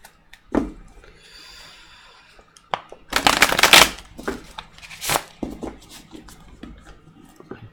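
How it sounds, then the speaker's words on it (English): A deck of tarot cards is reshuffled during a reading: a short riffle, then a louder, longer burst of rapid card flutter, and a final quick shuffle among soft handling sounds. "feels like it needs another shuffle here."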